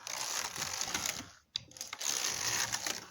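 Passap knitting machine carriage being run through a piece of fabric, a sustained close mechanical rattling and whirring that cuts out briefly midway and then resumes.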